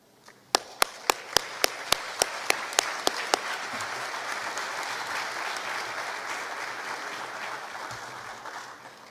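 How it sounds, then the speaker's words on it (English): Sustained applause from an audience at a high school honors night for honor graduates and teachers, opening with a string of loud sharp claps that give way to steady, even crowd clapping lasting to the end. "One more round of applause for all of our projected honor graduates and honor teachers"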